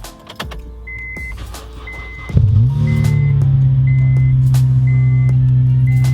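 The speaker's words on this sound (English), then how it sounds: "we're going to try and start the car, so here we go." A starter cranks briefly, then a Honda Civic Type R EP3 engine, started with a jump pack, catches and settles into a loud, steady idle, with small clicks and a faint repeating beep.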